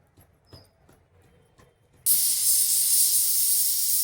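A pressure cooker vents steam with a sudden, loud, continuous hiss that starts abruptly midway and holds steady, following a quiet stretch with faint knocks.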